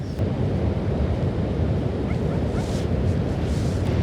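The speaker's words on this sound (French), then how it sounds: "il n'a pas tellement de grosses vagues, hein. C'est de la mini-flotte, là." Small ocean waves wash continuously on the Atlantic coast of Iberia, a dense steady surf hiss mixed with wind buffeting the microphone.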